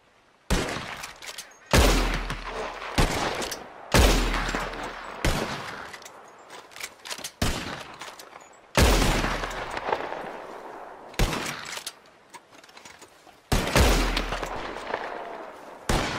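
Gunshots fired at flying birds in a video game ring out as about eight separate loud blasts, each with a heavy low boom and a lingering echo, spaced a second or two apart.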